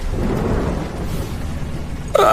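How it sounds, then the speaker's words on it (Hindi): Heavy downpour with rumbling thunder over farm fields, a dense, loud low roar sustained throughout, ending with a brief sharper burst. "बिजली चमकती है, जोरदार बारिश शुरू हो जाती है।"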